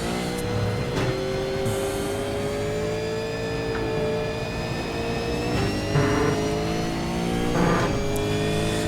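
A V8 Supercar engine in the iRacing sim racing game revs hard through the gears at Virginia International Raceway, rising pitch climbing steadily with brief drops at each upshift, loud and continuous with no talk.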